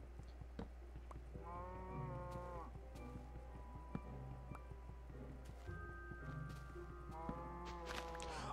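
Minecraft cows mooing repeatedly in a grassy game world, several drawn-out low moos spaced across the stretch alongside soft rustling and footstep clicks, over a constant low hum.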